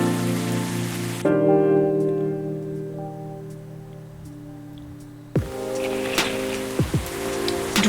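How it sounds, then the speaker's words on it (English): Steady rain falls at night in the video game Coffee Talk, a soft even patter under a sustained musical tone, then growing fuller and louder partway through with a few sharper drip-like ticks. "Another rainy night."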